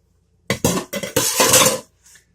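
Ham being cut for stromboli, heard as a close knife working against a plate or board with a quick series of clinking, scraping strokes lasting about a second, then a faint tap, with no voices.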